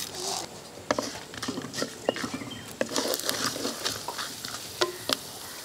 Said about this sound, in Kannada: ಸಾಸಿವೆ ಎಲ್ಲ ಸಿಡಿದ ಮೇಲೆ ಬೇಯಿಸುತ್ತೆ